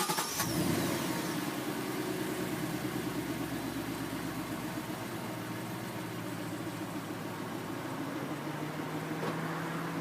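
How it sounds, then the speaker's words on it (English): A 2014 Ford Mustang GT convertible V8 cranks and fires with a quick rising revving burst, then settles into a steady, deep, rumbling idle that carries on for several seconds close by. "Quick engine start, and up it will go."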